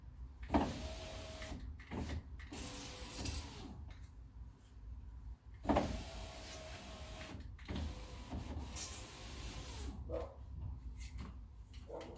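Electric power window on a BMW X3 with the ignition on, motor whirring through two long up-and-down runs with clunks as the glass stops at each end, close and fairly loud.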